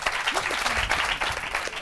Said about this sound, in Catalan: Aplaudim-los, a veure si així...